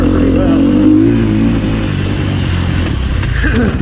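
Sherco SEF300 dirt bike engine running while ridden off-road at Crow Canyon, a loud close-up steady drone that wavers as it revs, with a person talking over it.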